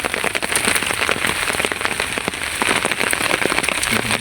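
Steady rain pours down over a field during fishing in a village, a dense, even patter of drops on the surface that keeps up without a break and is loud and close.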